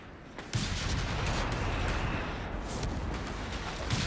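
Incoming mortar fire in Company of Heroes 3 during an Italian campaign battle at Agnone, a dense rumbling barrage of blasts and crackling impacts sustained loudly across the whole stretch.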